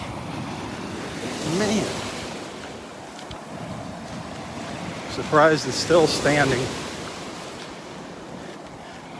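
Waves wash and crash beneath a beach boardwalk at Delnor-Wiggins on the Gulf after a storm, a constant rumbling surf with wind noise, while someone speaks a few words over it.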